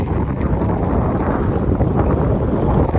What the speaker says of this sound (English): it's windy. I hope you guys, that wind is not bothering you guys.